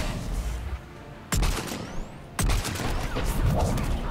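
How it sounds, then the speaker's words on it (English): Two sharp Viper sniper rifle shots ring out in Mass Effect 3, each a loud sudden crack about a second apart with a ringing tail, over a dim steady game background. "The Viper also has a nice rate of fire"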